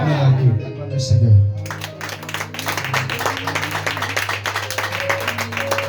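Church congregation clapping and applauding during a French-language sermon, dense irregular claps building after a short sung or spoken phrase, with voices and sustained low tones running underneath.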